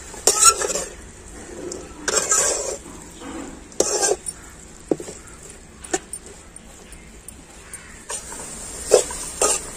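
A spatula stirs banana stem and drumstick leaves frying in a pan for a Tamil poriyal, making a soft continuous sizzle broken by several sharp scraping bursts against the metal, close and fairly loud.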